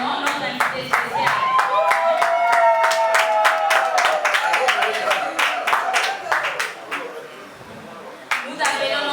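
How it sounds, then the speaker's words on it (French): Sharp individual hand claps in an irregular, fairly quick rhythm from an audience welcoming a special guest at a women's month closing ceremony. Voices and a tonal sound run underneath before the clapping thins toward the end. "Applaudissez-vous maintenant notre invité spécial."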